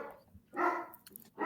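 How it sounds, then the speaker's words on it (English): A dog barks twice nearby in short, sharp bursts separated by a brief pause, fairly quiet against an otherwise still background. "I hear a dog"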